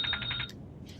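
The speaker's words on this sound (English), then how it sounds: "That's his medicine and dinner time alarm." A medicine and dinner time reminder alarm goes off as a quick series of bright, high electronic beeps. It stops abruptly after about half a second, leaving quiet room tone.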